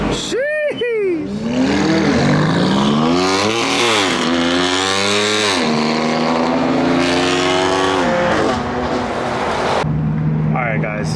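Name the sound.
cars revving and backfiring with gunshot-like pops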